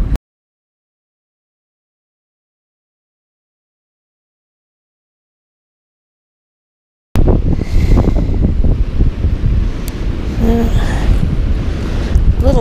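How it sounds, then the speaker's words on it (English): Wind buffets a microphone outdoors in freezing weather, bursting in suddenly after a long silence as a loud, steady, rumbling roar for about five seconds. "Little less wind here."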